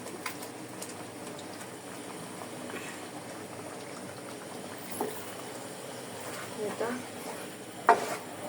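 A spice masala with tomato sauce cooking in a pan gives a low, steady bubbling simmer, with a soft knock or clatter near the end.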